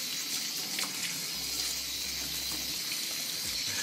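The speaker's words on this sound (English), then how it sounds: "All pieces are washed with the cold water" Cold tap water runs steadily into a sink as salted eggplant pieces are rinsed by hand, a continuous close splashing gush with small clatters and no talking.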